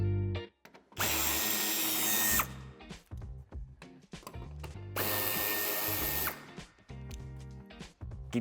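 A power screwdriver removes bumper screws on a BMW 3 Series F30 LCI sedan, whirring loudly in two long bursts with brief ratcheting and clicking between them, close by.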